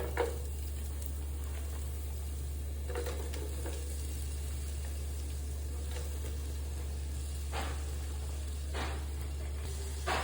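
Spices and onion sauté in hot oil for prawn biryani, a steady soft sizzle running throughout with occasional brief scraping stirs, close and alone without talk.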